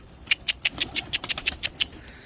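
A rapid series of soft, papery wing flaps from pigeons, about a dozen beats in a steady rhythm, close by with light background hiss.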